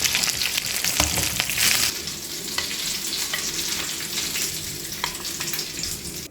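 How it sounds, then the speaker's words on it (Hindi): Potato, chicken and fenugreek kebabs frying in hot oil give a steady close sizzle, with a few louder crackles early on that settle into an even, constant hiss. No one speaks. "दोनों साइड से हमने गोल्डन ब्राउन होने तक फ्राई करना है"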